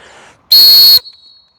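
A single loud, shrill blast from a pealess coach's whistle blown hard, held steady for about half a second, piercing and close, with faint background noise before it.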